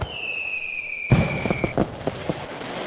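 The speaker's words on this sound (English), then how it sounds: "I'll leave you with a firework." A firework in the Minetest video game whistles as it rises, then bursts with a sharp bang followed by a scatter of crackling pops that fade out over about two seconds.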